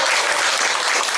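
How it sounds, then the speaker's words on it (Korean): A short, loud burst of dense clapping from an audience at an Amway group seminar in a Wonju centre, steady and close throughout. "박수 한번 주세요."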